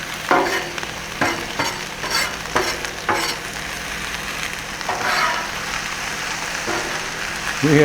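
Mushrooms sizzling and frying on a Blackstone griddle, with a steady hiss broken by several sharp scraping stirs of a spatula across the hot metal surface.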